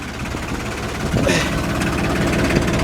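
A logging machine's engine idling low and steady, a close mid-pitched rumble with a faint rattle and a brief rise in the middle, no talking.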